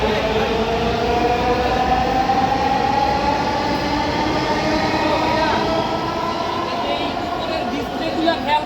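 Crowded metro train running, a constant loud rumble with tonal whine throughout, heard from on board or at the platform among many people.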